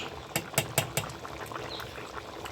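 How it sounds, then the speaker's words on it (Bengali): Meat curry broth bubbles on the stove in a home kitchen, with several distinct pops and blips in the first second followed by a quieter simmering hiss, faint and close. "মাংসের ঝোল ফুটছে"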